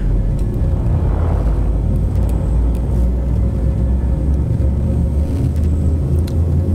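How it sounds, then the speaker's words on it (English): A spaceship's Frame Shift Drive charging in Elite Dangerous gives a deep, steady, loud rumble with a brief rising whine early on and faint flickers above, unbroken and with no voices. "Frameshift drive charging"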